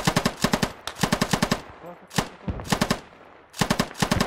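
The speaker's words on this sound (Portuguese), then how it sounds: "O tiro tá indo lá, ó." Rapid bursts of automatic gunfire in a 50 vs 50 player Squad video game battle, several volleys separated by short pauses, loud and close.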